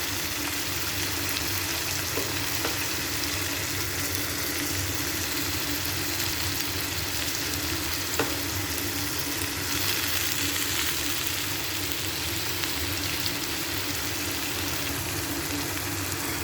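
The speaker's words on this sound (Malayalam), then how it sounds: "ഇതിലേക്ക് ഇനി നമുക്ക് ഇഞ്ചിയും വെളുത്തുള്ളി ഇട്ട് കൊടുക്കാം." Ginger and garlic sizzle steadily in a hot pan while cooking a Kerala-style crab roast, a loud continuous frying hiss with faint occasional stirring clicks.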